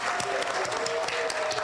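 Audience at a Pride luncheon applauding a woman named Julianne, a steady, dense wash of many hands clapping throughout, loud and continuous with a faint tonal hum underneath.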